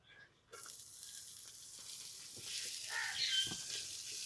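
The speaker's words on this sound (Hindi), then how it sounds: "ऑयल गर्म हो जाता है तो हम इसमें डाल देंगे हाफ टी स्पून साबुत ज़ीरा" Whole cumin seeds hit hot oil in a pan and set off a steady broadband sizzle that rises and swells partway through, with small clicks of spattering, heard close up and alone while a samosa filling is prepared.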